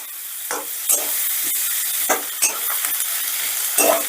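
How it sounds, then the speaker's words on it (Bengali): Onions are stirred as they fry in a pan, a steady close sizzle broken by repeated scrapes and knocks of the spoon against the pan, with no talking. "এবারে পেঁয়াজটাকে একটু নাড়াচাড়া করে নরম করে নেব।"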